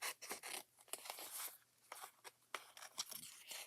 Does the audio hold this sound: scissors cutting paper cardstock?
yes